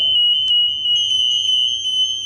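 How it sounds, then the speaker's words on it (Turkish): A TS922 acousto-magnetic anti-theft antenna, set off by a security tag, sounds a loud, steady, high-pitched electronic alarm tone that holds unbroken throughout. "Gördüğünüz gibi iki taraftan da alarmını verdi."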